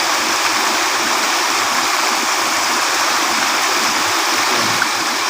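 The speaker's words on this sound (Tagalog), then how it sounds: "waterfalls." A waterfall roars as a steady, dense rush of falling water, constant and fairly loud throughout with no voices over it.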